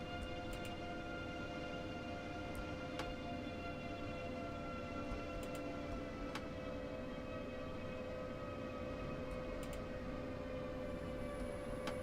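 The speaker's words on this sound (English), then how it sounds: "Now we're going to wait for another train to pass us by on the left, another Durchbahn train." A German train passes in Train Simulator 2017, a steady rumbling roll with sustained tonal hum and a few faint clicks, constant in level throughout with no talking.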